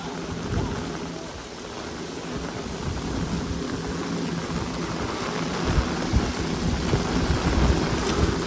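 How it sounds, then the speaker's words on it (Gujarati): Heavy rain pours down in a strong wind, a continuous roaring wash with low thunder rumbling underneath. The storm builds slightly louder toward the end, and no one speaks. "બહુ મસ્ત એવો વરસાદ આવી ગયો. અને અત્યારે ભારે પવન સાથે ચાલુ થઈ ગયો"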